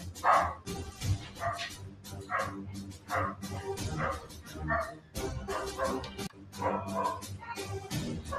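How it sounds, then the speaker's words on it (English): A dog barks repeatedly up close, sharp yips and barks arriving in short bursts with brief pauses between them. "That's my dog. He's a good boy."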